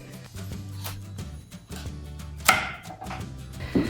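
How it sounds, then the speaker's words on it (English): A big knife chops through a winter squash, cutting thick slices with several firm thunks and one sharp crack midway, close and moderately loud with no talking. "The slices that I'm cutting are 3/4 of an inch to 1 inch"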